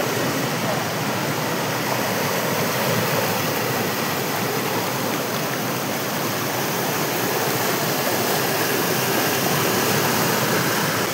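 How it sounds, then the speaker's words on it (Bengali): Strong water current rushing at Dossam Falls, a loud, steady roar of falling and flowing water that fills the whole scene without pause. "তোমরা আওয়াজটা শুনতেই পাচ্ছ, এত বেশি জলের স্রোত এখানে"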